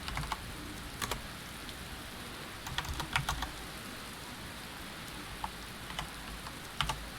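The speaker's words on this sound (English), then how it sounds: "can see it's raining" Rain falling in a video game gives a steady soft hiss, with scattered sharp keyboard clicks on top and no talking.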